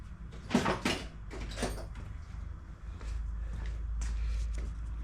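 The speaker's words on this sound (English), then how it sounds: "Let me look in this drawer." A tool drawer is pulled open and rummaged through in a workshop, giving a run of rattling, clattering bursts of metal tools at moderate, close range, with no one speaking.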